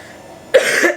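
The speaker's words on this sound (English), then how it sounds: "Lots of coughing" A child coughs in one short, harsh burst partway through, close and fairly loud after a quiet start, with no talking.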